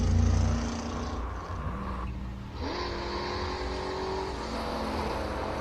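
A Chevy Corvette Stingray leaves the line at a classic car hillclimb, a moderately loud engine roar with gear changes and a rising whine as it accelerates away, heard from a distance.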